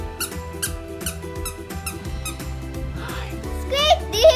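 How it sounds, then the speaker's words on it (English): A squeaky dog toy for a new puppy squeaks in a quick, repeated series of sharp, close squeaks, then gives a louder, longer squeal at the end. "Squeak, do you hear that guys?"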